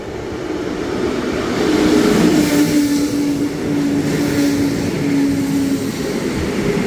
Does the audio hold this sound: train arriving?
yes